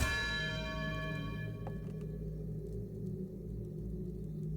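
A bell in Outer Wilds sounds one faint struck tone that hums and slowly fades, its ringing overtones decaying over a low steady ambient drone with no talking.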